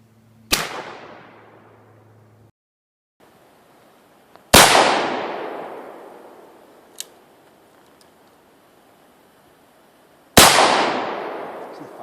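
A Remington Model 1858 Army black powder revolver fires three loud, sharp shots several seconds apart, each with a long echoing decay outdoors, plus a small click between them.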